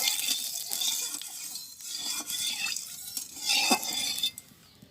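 Fish sizzling as it is fried in hot mustard oil in a wok in a village kitchen, a steady bright crackling hiss with occasional clinks of utensils, close and continuous.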